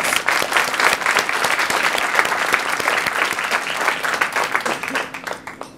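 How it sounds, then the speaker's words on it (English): An audience at a criminal justice reporting awards ceremony applauds the recipients with dense, sustained clapping that fills the room, then tapers off toward the end. "please give everyone a round of applause"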